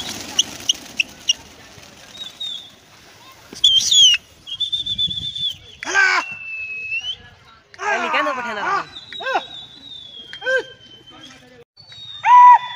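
Pigeons take off in several bursts of flapping wings in a village on a cold winter morning, mixed with chirps and sharp whistles, separated by quiet gaps.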